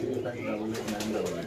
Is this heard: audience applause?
no